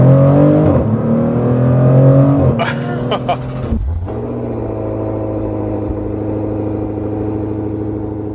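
A 2024 Maserati GranTurismo Trofeo driving on the road, its engine droning steadily with a rising rev, a brief gear-change dip and then a smooth cruising hum.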